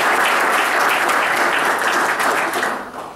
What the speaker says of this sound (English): Round of applause for your sponsorship.